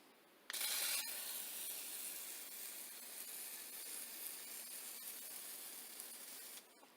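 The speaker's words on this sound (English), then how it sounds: "now I'm getting ready to put a final coat of WD-40 on the whole thing" A can of WD-40 aerosol sprays in one long, continuous hiss of about six seconds, close and steady. It stops abruptly, with a couple of faint clicks.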